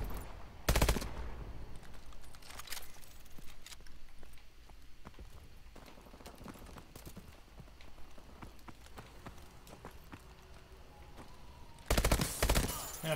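Burst-fire gunfire in Call of Duty Advanced Warfare: loud short bursts near the start and again near the end, with softer scattered shots and game ambience between them.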